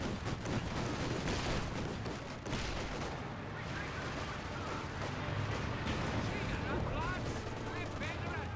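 In a Company of Heroes 2 match, a grenade bounces a couple of times and bursts among dense, continuous battle noise of gunfire and artillery, with a commentator's voice running over the top.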